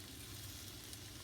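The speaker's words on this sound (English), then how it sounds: "So now we're adding sausage." Sausage sizzles in a pan with flour roux for gumbo, a faint, steady crackling fry with tiny pops throughout and no voices.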